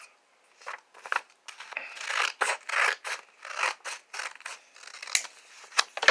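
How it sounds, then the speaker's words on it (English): Scissors snipping through paper to cut out triangles for a craft banner, a series of short crisp cuts and rustling rasps in an uneven rhythm, close and moderately quiet with no talking. "So again, your paper, you want to cut out the triangles."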